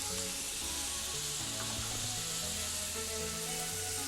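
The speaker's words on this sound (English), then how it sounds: "we're gonna let the onions saute for a few" Onions sautéing in a pan with garlic paste, salt and black pepper, giving a steady close sizzle with faint stirring scrapes throughout, no voices.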